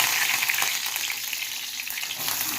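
Steady crackling sizzle of mustard seeds tempering in hot sesame oil in a pan, continuous and close, with no talking.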